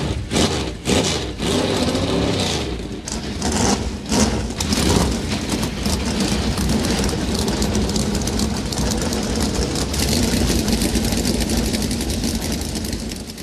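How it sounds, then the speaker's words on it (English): NASCAR stock car engines crank up and settle into a loud, continuous idle before a qualifying duel at Daytona, with a few sharp revs and bursts near the start. "Gentlemen, start your engine!"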